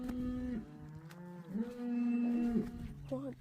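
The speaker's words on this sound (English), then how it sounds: "Well, there's a whole line of cows." Several cows moo in a line of cattle, long drawn-out low calls following one another up close, with a brief higher call at the end and no talk over them.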